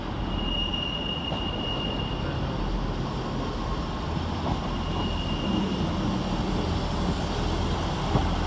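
A Scotrail class 158 diesel train pulls in at Glasgow Queen Street station, giving a steady, loud, broadband rumble with a faint high whine that holds throughout and no voices.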